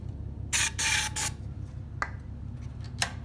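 Starting fluid sprayed into a Vanguard 9HP engine on an old tractor: two or three close, loud hissing aerosol bursts, then a couple of short sharp spurts, with no talking.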